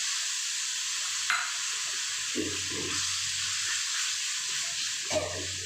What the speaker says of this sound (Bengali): আমি যে সর্ষেটা ভিজিয়ে রেখেছিলাম সেটা দিয়ে দিলাম